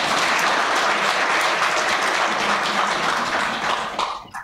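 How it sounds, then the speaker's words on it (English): An audience at a health seminar held at a university in Namibia gives a round of applause for the panelists, dense and steady clapping throughout that thins and fades in the last moments. "That was not a fair round of applause,"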